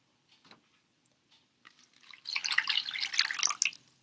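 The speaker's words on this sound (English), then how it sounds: "pour that water into the bowl" Faint scattered drips come first, then water pours and splashes into a bowl for about two seconds, close by and quiet, with no voices.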